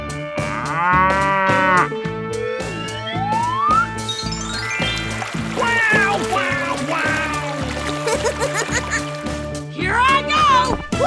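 Cow mooing in a 3D animal sliding game: a long, loud bovine moo with rising tones, repeated game jingles and pulsing beats underneath, and a voice heard alongside.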